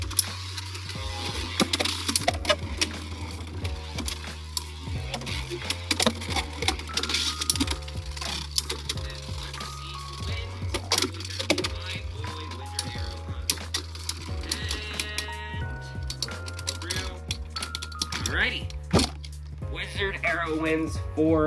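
Beyblade X spinning tops launched into a stadium and clashing in a tournament battle, a dense busy stream of rapid clicking, rattling and metallic scraping impacts, loud and continuous throughout with a low hum underneath.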